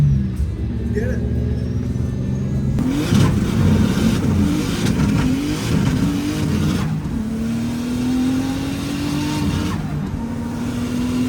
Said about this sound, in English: Jacob and I going for a little drive to Cars and Coffee in the 240